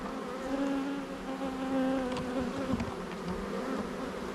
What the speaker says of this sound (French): il y a des abeilles